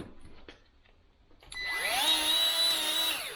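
A Milwaukee 2446-20 cordless grease gun running, a few clicks and taps first, then a loud motor whine that starts up, holds steady for about two seconds and begins to wind down, close up with no talking.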